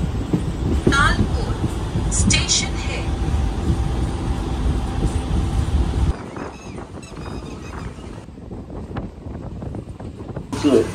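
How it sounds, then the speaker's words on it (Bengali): Inside a crowded moving train: a loud continuous rumble and rattle of the carriage with a dense murmur of passengers' voices, and the roar thins out partway through. "ভিড় আছে গো ট্রেনে, প্রচুর ভিড়"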